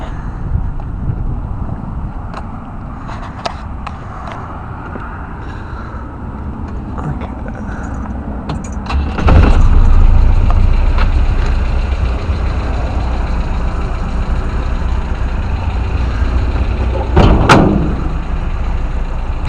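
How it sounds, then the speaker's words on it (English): A 1968 Volvo Amazon 220 wagon idles with a low steady engine hum, broken by a couple of door clunks, a louder rumble partway through and some wind buffeting on the microphone. "This car idles very smoothly."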